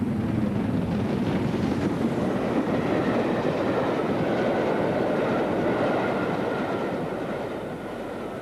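LMS Black 5 steam locomotive 5407 hauls a holiday train along the North Wales coast, heard as a steady, loud, continuous rolling rumble of the train passing that eases slightly toward the end.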